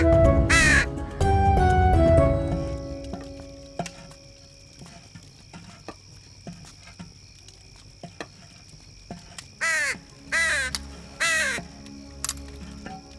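A crow caws in a few loud harsh calls at the start, then a quick series of four more caws later, with quiet background sounds in between.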